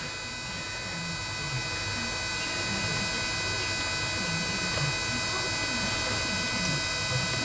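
A 16 kW Chinese diesel water heater starting up gives a steady, close mechanical whine and roar with constant high tones and a low rumble throughout.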